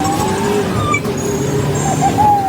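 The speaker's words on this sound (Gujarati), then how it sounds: "બસ આવી ગઈ, કોઈ નહીં બસમાં." A bus pulls up at a roadside stop, its engine a steady close rumble with tonal whine and road noise, no voices heard over it.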